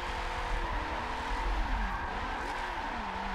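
A race car in Forza 7 at Road Atlanta drives through a section, its engine droning loud and close. The pitch sweeps up and drops at a quick shift from second to third gear, and there is tire noise.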